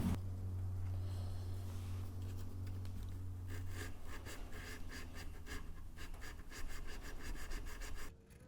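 A Scotch-Brite pad is rubbed back and forth to clean out a slot in an M1903 Springfield rifle stock. It makes a steady, faint, close scratchy scrubbing with no talking, and a low hum fades after about 4 seconds.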